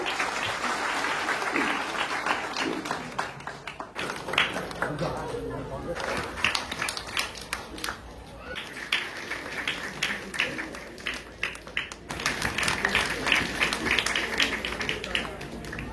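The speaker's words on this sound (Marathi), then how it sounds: "स्वतः सर्वांनी जोरदार टाळ्या वाजवूया" Audience applause at a primary school's 78th anniversary celebration in Kunkeshwar-Katvan, a dense crowd of clapping hands sustained throughout at steady loudness, with voices mixed in.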